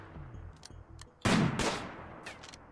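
Gunfire strikes a bear in the video game Rimworld: a burst of loud, close shots lasts about a second over a low background of game sound, with a few fainter pops before and after.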